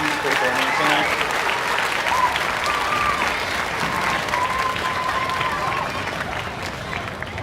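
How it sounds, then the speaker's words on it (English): A large crowd claps steadily and densely for young musicians at an elementary school beginner instrumental concert. The applause stays full and even throughout, with faint voices mixed in. "Can we have one giant round of applause for our over 180 musicians performing tonight?"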